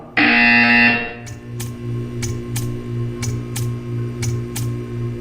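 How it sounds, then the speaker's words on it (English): A test chamber buzzer from the video game Portal 2 gives one loud, sustained electronic tone lasting about a second. Low ambient hum follows, with a regular series of faint clicks or ticks. "You will hear a buzzer. When you hear the buzzer, stare at the art."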